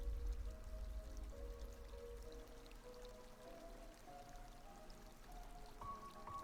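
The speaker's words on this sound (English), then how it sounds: "It looks like water is supposed to flow from the fountain into this quaint little creek." Water trickles and pours from a fountain into a small creek in the video game Habromania, a faint, steady flow with soft tonal notes drifting over it.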